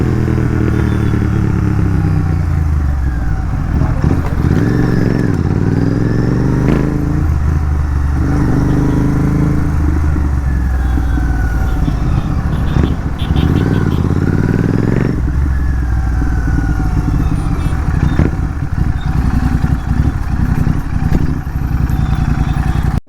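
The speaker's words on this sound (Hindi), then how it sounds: "तो गाइस दोनों इंटरसेप्टर ट्विन से हैं भाई। ये मेरी आवाज़ आ रही होगी भाई, एक्सीलेटर दे जा रहे हैं।" Two Royal Enfield Interceptor 650 twin-cylinder motorcycles rev and accelerate close by on a night ride, a loud continuous engine roar with repeated throttle blips and rising, falling pitch sweeps throughout.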